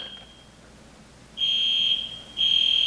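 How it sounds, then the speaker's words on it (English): A high, piercing electronic alarm tone sounds in two long bursts with a short gap between them, loud and steady against a quiet room. "Smoke alarm?"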